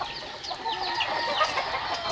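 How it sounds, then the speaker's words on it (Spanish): Chickens and small chicks on a Bolívar Núñez poultry farm cluck and peep in a steady, busy chorus of overlapping calls at moderate distance, with no talking. "Así bajan los pollitos."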